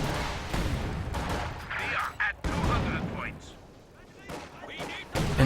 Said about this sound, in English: In comes another incendiary barrage right on top of the stolen Zis